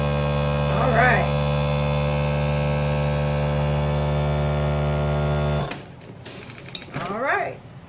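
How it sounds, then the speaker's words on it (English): A FoodSaver vacuum sealer pumps air out of a food storage bag with a loud, steady electric motor hum that cuts off abruptly near the end, followed by quieter clicks and rustling. "that's just taking all of the air out and making it last for a long time"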